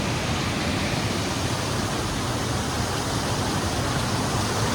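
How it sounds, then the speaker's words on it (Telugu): A mountain waterfall in Nainital, Uttarakhand, pours as a steady, dense rush of water, loud and continuous with no break, and no voices are heard. "జలపాతం చూస్తారా?"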